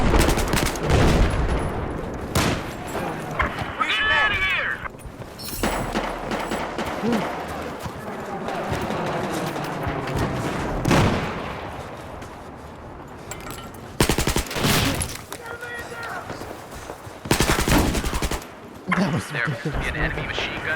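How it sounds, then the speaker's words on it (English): Rapid machine gun bursts and scattered gunshots ring out through a chaotic video game firefight, loud and repeated in short volleys, with players shouting and talking over the fire throughout. "An enemy machine gunner located to your west."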